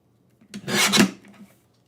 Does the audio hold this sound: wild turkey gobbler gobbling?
no